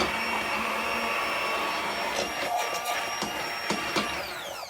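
Steady high-pitched whirring of a Princess House immersion blender pureeing homemade tomato soup in a pan, running continuously at close range with faint knocks as it moves, and no voices.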